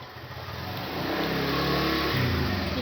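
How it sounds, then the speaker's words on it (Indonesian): A motorbike engine rises in pitch and loudness as it approaches and passes close by, a revving buzz lasting a few seconds. "Ada motor, Dek."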